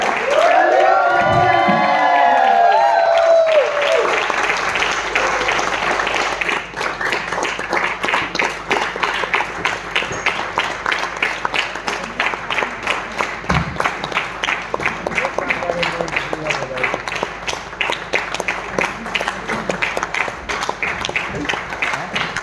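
Audience clapping at a network marketing seminar, starting after a spoken introduction and continuing as a dense, rhythmic patter of hands for some twenty seconds, fairly steady and moderately loud.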